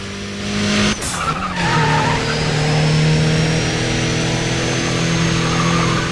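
Race car engine from the Need for Speed ProStreet racing game, revving steadily at high speed with a burst of tire skidding and scraping early on, loud and continuous with no voices.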